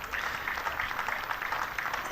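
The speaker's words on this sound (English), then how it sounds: "applause for Liberty Heap. Sympathetic applause." Spectators at an Essex Women v Somerset Women one-day cricket match give cricketer Liberty Heap a round of sympathetic applause, a soft, fairly distant patter of clapping sustained for about two seconds.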